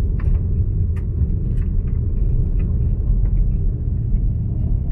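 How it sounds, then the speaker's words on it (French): A 2019 Seat Tarraco SUV with four-wheel drive rolls over gravel and stones: a steady, loud, low tyre and road rumble, with scattered small crackles of stones under the wheels. "sentir les graviers et les cailloux sous les roues"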